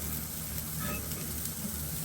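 A cauliflower steak frying in a pan on a gas flame, a soft steady sizzle heard close and alone.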